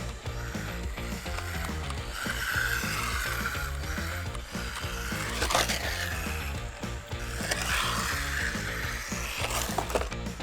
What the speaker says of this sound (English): Sand keeps getting caught up in the rear wheel here and kind of binding it up.